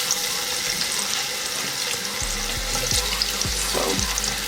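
Chopped peppers sautéing in a pan for a shrimp Rasta Pasta sauce make a steady, bright hiss, with a few soft knocks from the pan partway through.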